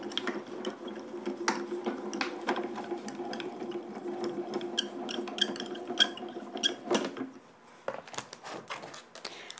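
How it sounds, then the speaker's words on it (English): A die-cutting machine rolls a card panel through its rollers with a steady, close mechanical grinding and ratcheting whir. The sound runs for about seven seconds, then stops abruptly, and no one speaks. "Run this through our machine"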